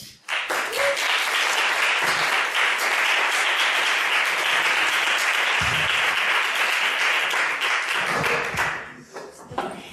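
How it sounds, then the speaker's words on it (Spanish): Audience applause welcomes a speaker at a public-education event, a dense steady wash of many hands clapping for most of the stretch before thinning out and fading near the end. "le damos paso a ella con un aplauso"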